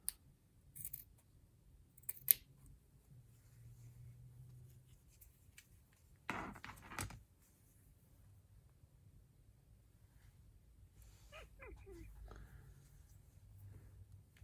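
Scissors snip through material at a workbench: a few quiet, close cuts near the start, a louder cluster of snips midway, then softer handling sounds over faint background hum.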